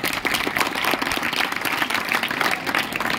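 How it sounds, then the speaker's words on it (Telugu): An audience claps for teachers at a public speech, a brief burst of dense, sustained applause from many hands with no voices over it. "చప్పట్లు కొట్టండి ఆచార్యులకి, మాతాజీలకి"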